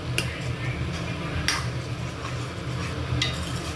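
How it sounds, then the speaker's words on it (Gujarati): Tomato puree is stirred into a paneer, corn and capsicum curry: close, quick scraping strokes against the pan over a dense bubbling simmer, with a few brighter utensil scrapes standing out. "મસ્ત હલાવી દઈશું સરસ મજાનું।"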